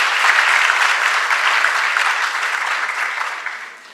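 Sustained applause from an audience at a university business and management internal audit career day, a steady dense wash of clapping that holds loud before tapering off toward the end.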